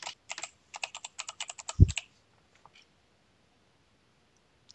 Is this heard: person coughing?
no